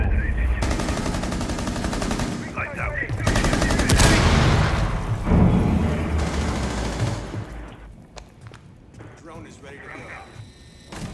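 Gunfire in a Rainbow Six Siege match during a breaching charge push, with loud rapid bursts and heavy blasts crowding the first half before thinning out, under voices talking over it.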